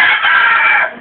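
A fighting rooster on a gamecock farm crowing nearby, one loud, sustained, strained call that holds steady for most of a second before fading, with no talk over it.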